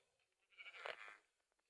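A sheep bleats once in the video game Minecraft, a single wavering cry of about half a second, fairly close and clear over an otherwise quiet background.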